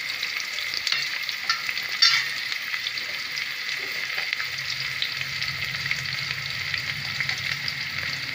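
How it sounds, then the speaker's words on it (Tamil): Big onions fry in a pan for mushroom biryani, a continuous close hiss and crackle broken by soft scraping stirs and one brief clatter of the spoon, with no talking. "இப்போ நான் அதில் வந்து பெரிய வெங்காயம் போட்டுறேன்"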